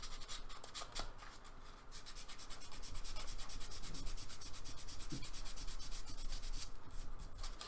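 Continuous rubbing and scraping of a sanding sponge over body filler on a Jaguar E-Type panel, a steady close abrasive swish running throughout without talk.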